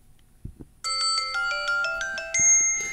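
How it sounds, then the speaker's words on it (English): A Samsung Galaxy Z Fold 5 phone plays a melodic ringtone of bright sustained tones, stepping through a rising and falling tune close by, preceded by a few soft handling taps. "if I want, I got different ringtones."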